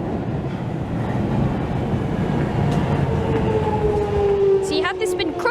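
A London Underground Metropolitan line train approaches on a busy platform, its steady rolling rumble building as a rising, whining tone swells, then squeals near the end.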